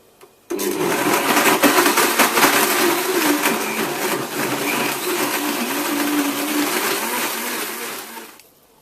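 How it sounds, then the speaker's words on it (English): A blender on its high setting whirs loudly and steadily for about eight seconds, blending a banana and yogurt smoothie with assorted coloured marshmallows, starting abruptly and cutting off at the end. "Now blend this on high for 60 seconds"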